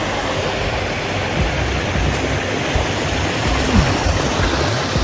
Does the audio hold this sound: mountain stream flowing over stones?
yes